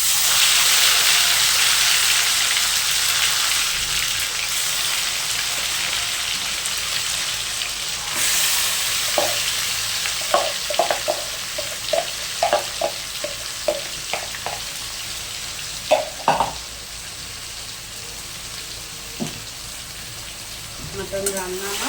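Mutton frying in a pan with garam masala, a loud steady sizzle that eases slightly partway through, with scattered clinks and scrapes of stirring over the top.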